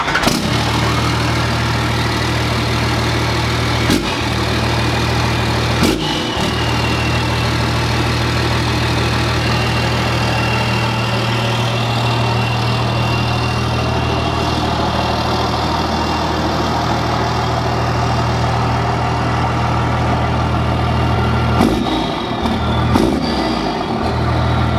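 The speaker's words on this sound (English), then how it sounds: "let's get this exhaust fired up and see how she sounds" Straight-piped 12 valve Cummins diesel truck with a 5 inch exhaust idling, a loud steady low rumble with a few short throttle blips and pops standing out along the way.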